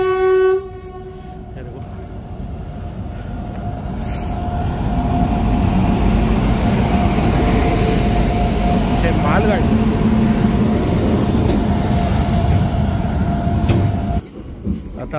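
Train pulling into a Mumbai suburban railway station, a loud rumbling roar of wheels on rails building steadily and holding close, with a brief horn-like tone near the start and occasional squeals; someone talks over it.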